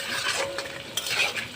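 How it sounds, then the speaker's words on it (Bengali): Potatoes, onion and spices are sautéed with fried bhola fish in oil in a pan: a brief, close spoon-and-pan stirring scrape over a soft sizzle, without any speech. "এবার দেবো আলুগুলি দিয়ে পেঁয়াজ দিয়ে একবার মশলা দিয়ে একবার ভালো করে কষে নেব"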